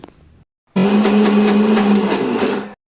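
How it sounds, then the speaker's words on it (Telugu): A kitchen mixer grinder coarsely grinding chana dal for motichoor laddu: one loud, close motor whir of about two seconds with a steady hum, starting and stopping abruptly, with no voices over it. "మిక్సీలో వేసుకొని మిక్సీ పట్టుకోవాలి"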